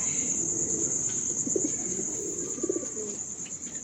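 A rare grey Ferozpuri-type pigeon gives a few low throaty coos, short and close, over a steady high-pitched cricket drone and no talk.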